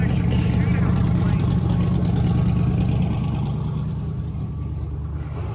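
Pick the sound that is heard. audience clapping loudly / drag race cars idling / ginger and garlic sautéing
drag race cars idling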